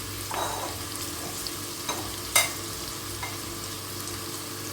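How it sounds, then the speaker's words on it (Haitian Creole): Chili pepper frying with fried onion in a pot, a constant sizzle with scattered stirring scrapes and one sharp knock of a utensil, no talking. "Mettez piment doucement avec oignon frit et après on va l'ajouter épices là-dedans."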